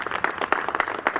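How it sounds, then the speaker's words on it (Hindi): Brief applause for Habib Mohsin at an Independence Day gathering on 15 August, a scatter of hand claps from a small crowd, moderately loud and uneven. "मैं हबीब मोहसिन साहब के लिए मैं चाहूँगा एक मरतबा जोरदार ताली बजनी"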